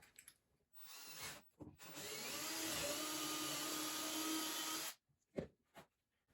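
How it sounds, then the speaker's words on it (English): A power drill bores out a hole to 5/16 inch to fit a bolt for a homemade ice fishing line, whirring steadily up close for about three seconds between short bursts and taps. "we'll bring up that hole to 5/16, which is the size of our bolt that we bought."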